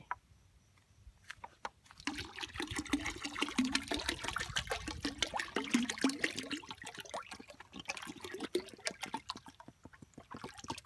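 Liquid poured out of a bottle, a photosynthetic bacteria culture being emptied into a larger container, a steady glugging splash lasting several seconds that starts abruptly and trails off into dribbles.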